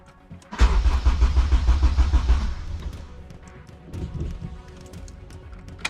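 A car engine cranks after a 4Piston intake installation, giving a loud, rapid rhythmic churning for about two seconds that fades into quieter mechanical clatter without catching. No one speaks.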